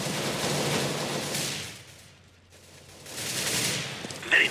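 A fast burst of gunfire aimed at a target rattles out, then fades into a short lull before another loud volley of rapid shots resumes near the end.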